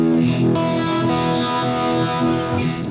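A distorted electric guitar through a Line 6 Helix Uni-Vibe effect rings out with a swirling, warbling modulation pulsing through the sustained notes.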